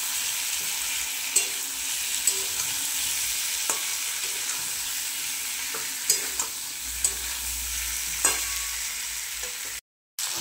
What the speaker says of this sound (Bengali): দিয়ে দেবো ভেজে রাখা আলুগুলো, দিয়ে ভালো করে আরেকটু কষে নেব।